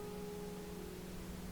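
Steady, even pink noise holds alone at a constant level throughout, soft and smooth with a faint low tonal hum beneath it, with no voices or breaks.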